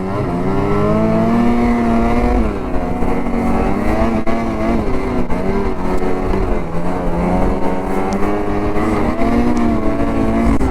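A Ski-Doo Turbo R and a Polaris Boost snowmobile racing side by side in freezing cold, loud sustained engine howl with pitch rising and wavering as they accelerate through the pass.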